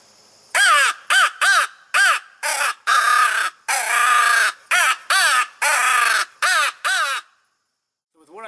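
A single crow hunting call is blown in a rapid, irregular series of about a dozen loud, harsh caws, some short and some drawn out, imitating fighting crows in distress before stopping abruptly.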